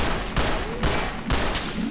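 Heavy gunfire in the game Entropy: Zero 2 keeps up continuous loud, close shooting, with sharp bursts hitting at regular intervals.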